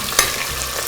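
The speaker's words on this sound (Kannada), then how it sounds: "ಸ್ವಲ್ಪ ಫ್ರೈ ಮಾಡ್ಕೊಳ್ಳೋಣ." Green chillies crackle in hot tempering oil, a close, steady sizzle broken by one sharp scrape of stirring.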